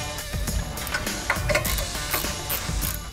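Bolts on a Carli pintop suspension bracket being hand-tightened with a ratchet, a continuous run of close, busy metallic clicking and grinding with no talking.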